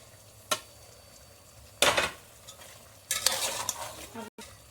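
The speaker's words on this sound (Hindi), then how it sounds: "अदरक लहसुन का पेस्ट डाल के अच्छे से भून लें" Quiet pan cooking: a spoon scrapes and stirs ginger garlic paste a few times over a soft sizzle, with clinks of metal on the pan.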